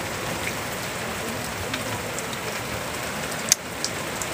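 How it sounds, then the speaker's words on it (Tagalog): Steady rain falls in Croatia, a dense even patter on surfaces with a few sharper drips standing out, and no one speaks. "Yan, maulan siya."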